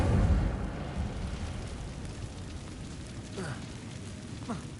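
A fire spell cast in Hogwarts Legacy bursts with a loud whooshing roar at the start, then fades into a crackling, rumbling burn with a few brief higher flicks.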